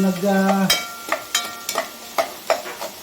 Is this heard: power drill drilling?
no